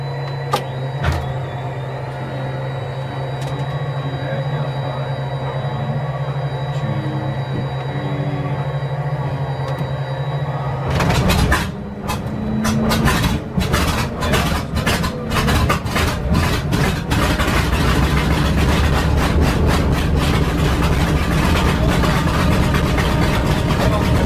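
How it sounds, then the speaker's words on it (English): A vintage warbird's left engine starts at a Collings Foundation Wings of Freedom flight event. A steady hum from another engine comes first, then the piston engine coughs and sputters to life and settles into a loud, rough, uneven idle. "I got the left engine start here"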